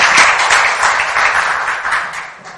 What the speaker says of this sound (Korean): 우선 다시 한번 큰 박수 부탁드립니다.